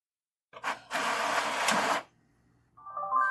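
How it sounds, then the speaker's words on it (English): All-in-one printer printing a test page: a short whir, then a loud steady mechanical feed for about a second, a pause, and a tonal motor hum at the end. "And there we go, a successful test print."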